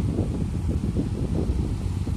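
Wind blows on a cloudy late afternoon beside a branch river of the Jamuna, heard from under a kadam tree as a continuous low rumbling buffet pressing close on the microphone.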